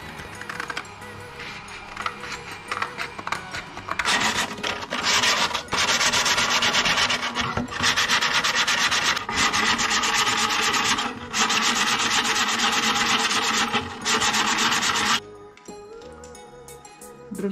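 Sandpaper or a file rubs steadily along the sharp cut edges of a 20-litre plastic can being turned into a planting pot, a dense, continuous scraping that runs in long strokes with brief pauses before stopping near the end.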